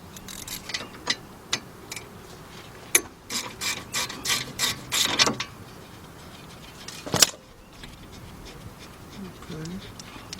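A ratchet with a 13mm deep socket loosens bolts on the front suspension of a 2001 Ford Windstar, producing scattered single clicks, then a run of rapid ratcheting bursts and a sharp final clank, close and clear.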